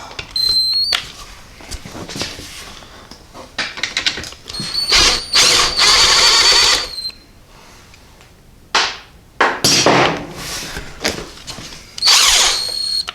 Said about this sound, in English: So next, I need to remove this 10mm bolt.